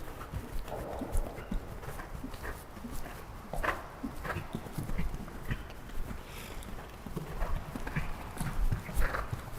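A horse's hooves clip-clop on arena footing during a show-jumping riding lesson, a steady rhythmic series of soft thuds at moderate distance, with occasional faint sounds around it.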